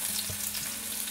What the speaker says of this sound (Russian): обжариваю его до румяности